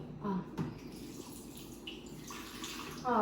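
A small amount of water is poured into a glass already holding ice while making cold coffee, giving a short, close splashing pour that lasts about three seconds with a brief surge at the end.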